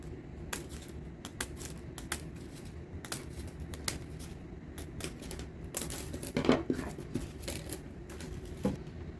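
Plastic Dollar Tree laundry basket being cut by hand, giving scattered crisp snips and crunches, close and fairly quiet, with no talking.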